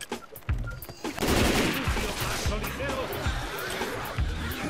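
Rapid bursts of gunfire in Left 4 Dead 2 gameplay, repeated shotgun-like blasts and rattling shots in a steady rhythm, heard alongside excited speech and game noise.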